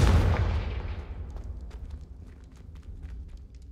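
A Confringo blasting spell explodes in Hogwarts Legacy with a loud, booming blast that decays over about a second into a faint rumbling tail with scattered crackles.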